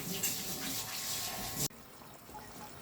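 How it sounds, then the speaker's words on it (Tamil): Water pours into a pan of spicy egg masala sauce in a quiet, continuous stream for about a second and a half, then stops abruptly and leaves faint kitchen background. "கொஞ்சமாக ஊற்றிக்கணும் தண்ணி, ரொம்ப நிறைய ஊற்றக்கூடாது."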